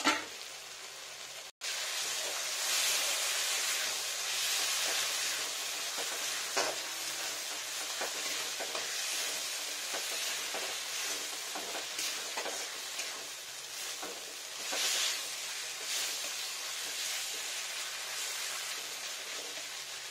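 Sliced onions frying in a pan while cooking spinach dish: a continuous, close, loud sizzle with occasional stirring scrapes throughout.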